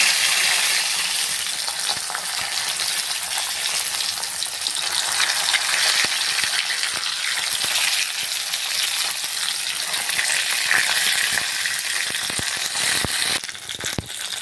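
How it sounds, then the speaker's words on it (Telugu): Eggplant pieces and curry leaves frying in a pan, a steady, dense hiss of oil sizzling throughout with scattered light clicks of stirring, close and constant with no voices. "కరివేపాకు వేసుకొని ఫ్రై చేసుకోవాలండి"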